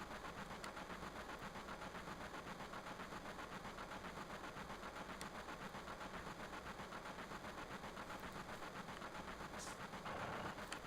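A train in the Final Fantasy 7 video game, a steady low rumble with rhythmic mechanical clatter that keeps going at an even, moderate level throughout.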